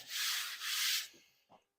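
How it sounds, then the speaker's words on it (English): Two quick back-and-forth strokes of sandpaper rubbing on a wooden desk shelf, close and scratchy, followed by a couple of soft knocks. "Sanding time."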